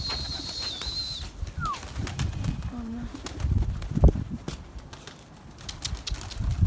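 Pigeons flap and coo close by at a rooftop loft where breeding pigeons are flown, with soft wing flutters, low coos and scattered rustling and thumps, plus a brief high whistle early on.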